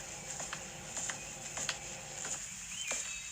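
Light footsteps patter along at a walking pace, soft distinct taps about every half second, faint and close over a quiet outdoor backdrop with faint bird or insect sounds.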